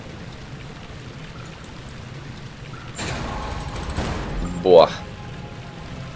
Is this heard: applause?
no